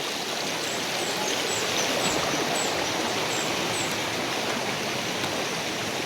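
Cold water flowing steadily at a hot spring in Caibiran, Biliran, a continuous close hiss and rush of stream water with faint bird chirps above it and no voices.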